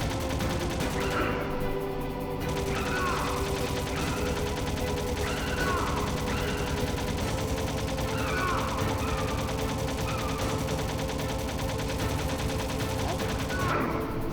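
Gunfire in the stealth-action video game Metal Gear Solid: steady, loud shooting that runs through the whole stretch, packed with sharp repeated shots and mechanical clatter over a dense layer of game sound, with no voice.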